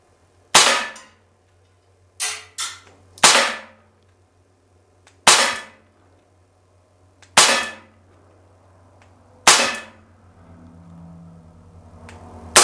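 Six sharp pops from a KWC M1911 non-blowback CO2 pellet pistol fired outdoors, spaced irregularly one to two seconds apart with a quick double shot among them, each crisp and close with a brief decay.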